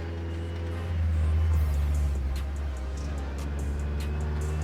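A 1986 Toyota Corolla GTS engine runs with a steady low rumble and a broad rasping hiss that hints at an exhaust leak, loud and continuous throughout with a swell in volume near the start.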